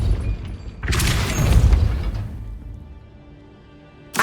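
A Depulso spell cast in the Hogwarts Legacy video game, a deep rumbling boom with a whooshing burst that swells and fades over a couple of seconds, then a short sharp hit at the end.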